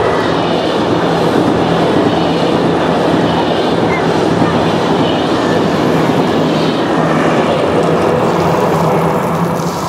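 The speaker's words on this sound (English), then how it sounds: "Another train." A loud, continuous rumble of a passing train, steady and close, filling the whole stretch without pause.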